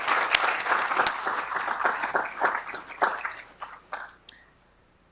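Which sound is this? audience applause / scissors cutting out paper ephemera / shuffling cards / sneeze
audience applause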